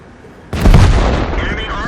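A single loud tank cannon shot from a T32 in World of Tanks goes off abruptly, with a heavy booming blast that rumbles and decays over more than a second.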